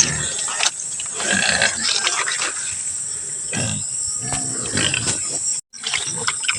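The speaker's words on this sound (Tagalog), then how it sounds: "Ito po yung baboy ko mga idol." A large pregnant domestic pig makes low, throaty grunts and rumbling snorts up close, irregular bursts over several seconds with a steady hiss behind, broken by a brief dropout near the end.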